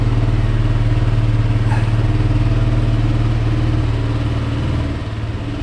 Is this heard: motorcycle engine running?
yes